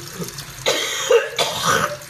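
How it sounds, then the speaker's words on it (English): A person coughs two or three times in quick, harsh bursts after swallowing a spoonful of cinnamon, close and fairly loud, with a throat-clearing quality. "still coughing"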